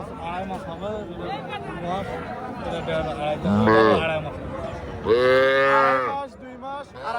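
Young calves low at a busy village cattle market. Several loud, drawn-out moos rise close by over the murmur of people talking.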